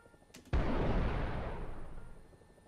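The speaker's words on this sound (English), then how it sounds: "It's time for a good old little ripple fire" Rocket ripple fire from a G-Lynx attack helicopter in a video game: a sudden explosive burst erupts after a quiet moment, then a dense, rumbling roar that slowly fades.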